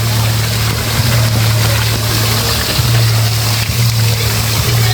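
Continuous rushing splash of a water fountain outdoors, loud and steady with a low droning hum beneath and no talk.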